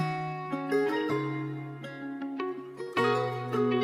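An electric guitar sample pitched up and run through a basic effects rack: plucked melodic notes ringing over a held low tone, with occasional sharper attacks, playing alone without voices.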